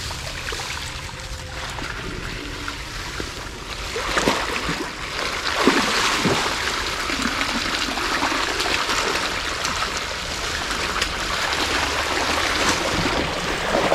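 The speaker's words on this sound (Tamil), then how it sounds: "தண்ணி திறந்து விட்றோம்." Irrigation water on a farm rushes, pouring and gurgling close by after being released, continuous and fairly loud, with a brief splashy surge partway through.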